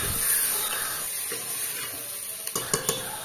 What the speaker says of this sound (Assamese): পুনৰ গোটেইখিনি ভালদৰে লৰাই লৰাই ভাজি থাকিম